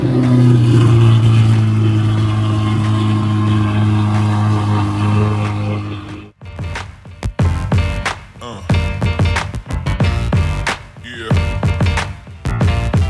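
A modified Corvette Z06 with an aggressive aftermarket exhaust idles loudly, then barks through a series of sharp, sputtering revs and throttle blips, close up.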